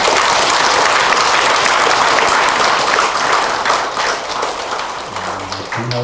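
Loud, dense applause from a congregation at a Won Buddhist temple dedication ceremony, sustained clapping filling the whole stretch before fading slightly at the close.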